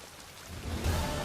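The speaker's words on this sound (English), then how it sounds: "Yeah, it's raining, bud." Rain falling in The Witcher 3: Blood and Wine, a steady diffuse hiss that swells slightly louder toward the end, with no voices.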